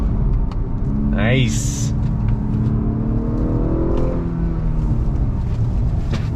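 A 2021 Honda Accord Sport with the 2.0-litre turbo engine, front-wheel drive, accelerates under throttle with paddle shifts, a steady close engine rumble and whir inside the cabin, with a brief spoken word early on.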